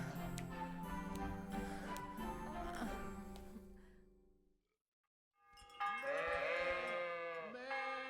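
Sheep bleat loudly and close by in the video game Kingdom Come: Deliverance, a wavering cry followed after a short silence by another long, quavering bleat.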